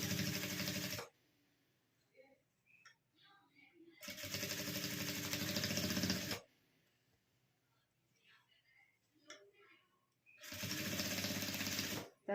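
A sewing machine stitches piping onto fabric from old jeans, running in three loud, steady bursts separated by quiet pauses with faint handling noises.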